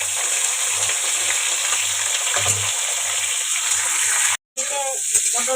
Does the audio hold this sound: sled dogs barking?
no